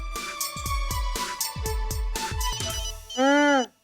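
A telephone ringtone in an indoor comedy scene plays loudly as a bouncy melodic tune over repeated thumping beats, ending in a sustained warbling tone.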